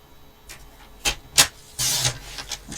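Paper trimmer slicing thin strips of gold foil for a handmade card, heard as a few short sharp cuts followed by a longer rasping slide of the blade, close and alone with no talk.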